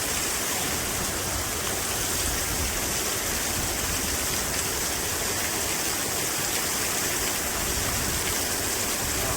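Water runs steadily from a public water fountain, a continuous close hiss and splash that stays even throughout with no voices.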